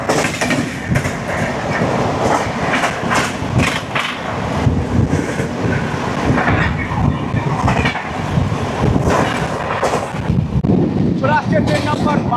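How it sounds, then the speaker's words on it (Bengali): Shalimar–Trivandrum Central weekly superfast express, train number 22642, rushing past close and loud with steady wheel clatter and rattling wagons, buffeted by wind noise throughout. "ট্রেন নাম্বার 22-642 শালিমার থেকে ত্রিবান্ধম সেন্ট্রাল সাপ্তাহিক সুপারফাস্ট এক্সপ্রেস"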